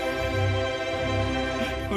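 An orchestral sample library plays violin, choir and harp together, with sustained, dense layered tones and low swelling notes, steady and fairly loud with no speech.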